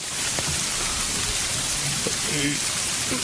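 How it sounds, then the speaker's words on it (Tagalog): Heavy rain pours down in a dense, steady hiss, with brief faint voices barely audible beneath the downpour. "Ang lakas ng ulan."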